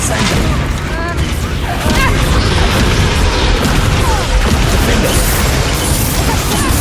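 An explosion spell is cast in a video game, setting off continuous loud blasts, booms and crashing debris throughout, with voices mixed into the din.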